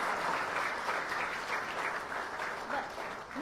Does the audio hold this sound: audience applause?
yes